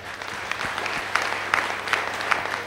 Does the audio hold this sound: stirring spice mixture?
no